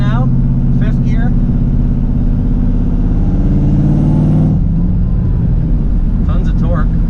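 An Infiniti G35 cruising in fifth gear at about 1800 RPM and 50 mph: a loud, steady, low engine drone fills the cabin, with someone talking over it at times.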